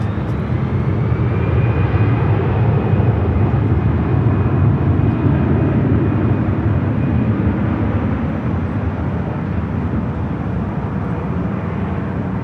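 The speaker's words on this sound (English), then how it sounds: "Another Delta A319 lined up, ready to go" A Delta Airbus A319 takes off for San Jose at Los Angeles airport, giving a loud, steady jet engine roar close by that holds throughout with a faint high whine.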